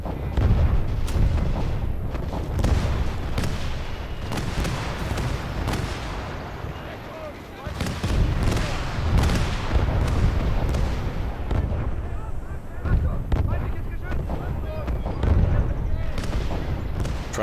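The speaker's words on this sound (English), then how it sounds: "Oh, speaking of mortars, the enemy's already firing at us with one." Enemy mortar fire in the World War II game Gates of Hell, heavy booms and thuds landing repeatedly over a constant rumble of battlefield gunfire, loud and near.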